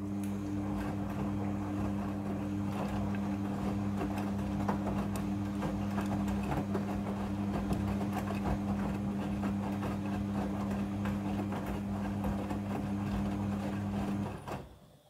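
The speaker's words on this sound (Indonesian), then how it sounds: "Setelah proses pemerasan selesai, masuk ke proses pembilasan air yang kedua." A Midea front-loading washing machine runs its second water rinse cycle, giving a steady, constant motor hum with a faint churning layer. It stays level throughout and cuts off abruptly near the end.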